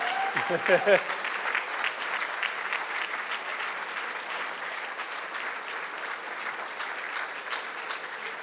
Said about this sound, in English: We can keep the applause going as we round this out.